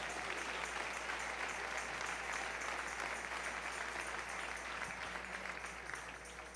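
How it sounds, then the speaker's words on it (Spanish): A church congregation applauds during a sermon, a continuous, moderately distant wash of clapping that fills the room and tapers slightly toward the end, with no speech over it. "Dale ese aplauso al Señor."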